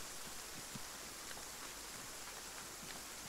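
Rain in Arma 3 falls as a steady, soft wash of drops, faint and even throughout, with strong wind implied but no voices.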